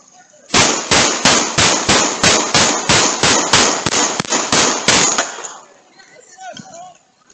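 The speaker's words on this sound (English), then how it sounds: "We have a shooting, and this is just a warm-up" Rapid volley of about fourteen loud gunshots picked up by a doorbell CCTV camera during a shooting in Houston, Texas, sharp evenly spaced cracks for several seconds, then fading echo and quiet street ambience.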